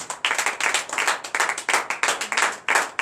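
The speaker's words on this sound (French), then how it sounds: "Donnez de vives acclamations à l'Éternel." A congregation at a morning prayer service applauding, with rapid rhythmic hand claps close and loud, rising and falling in quick waves for about three seconds.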